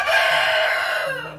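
Rhode Island Red chickens in a small backyard farm: a rooster's loud, close crow rises and falls over about a second, with hens clucking softly underneath.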